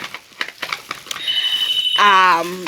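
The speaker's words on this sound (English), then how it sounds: "My phone is ringing off the hook at this hour." A telephone rings with a bright electronic trill at the end, after a stretch of clattering and a steady tone, loud and close.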